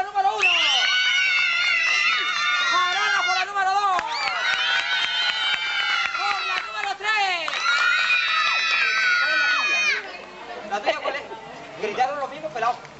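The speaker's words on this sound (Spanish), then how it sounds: "Gritaron los mismitos" Children and adults shout, scream and cheer together at an outdoor 15th birthday party, a dense, loud crowd din of overlapping high voices that drops off near the end into scattered chatter.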